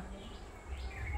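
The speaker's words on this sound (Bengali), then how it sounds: "পাখি ডাকছে," Birds chirp and call faintly in the distance by a pond on a quiet village morning, over a soft outdoor background, brief and quiet with no talking.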